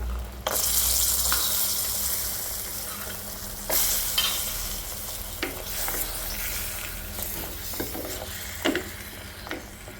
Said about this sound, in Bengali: ভাজা বড়িগুলো দিয়ে দিচ্ছি